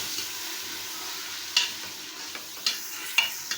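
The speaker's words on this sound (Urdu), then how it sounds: "اس کے اندر قیمہ ڈال دیں گے اور اس کو 1-2 منٹ فرائی کریں گے آئل میں" Mutton mince fries in oil as a quiet, even hiss, with a few sharp stirring scrapes and taps standing out near the end, close by and free of talk.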